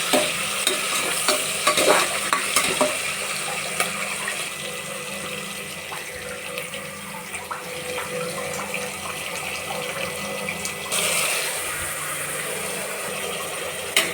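Vegetables sautéing in a pan for veg biryani, a continuous sizzling hiss with scraping stirs and clatters of a spoon, loudest at the start, steady and close with no talking.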